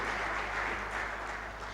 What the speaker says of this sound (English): Ladies and gentlemen, a huge hand clap for Mr. Joshua.